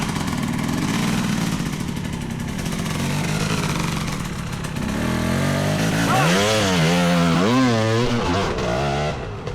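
A motorcycle engine drones steadily up close on a steep, near-vertical hill climb, then revs up and down repeatedly in rising and falling surges under brief shouted talk.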